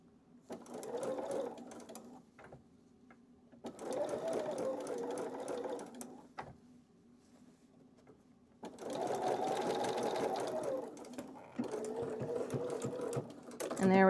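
A sewing machine pieces a curved quilt seam in bursts of steady whirring, starting and stopping several times with quiet gaps between runs, close and moderately loud.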